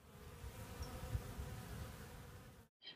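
Bees buzz in a steady, low hum close by, continuous for a few seconds before a brief break.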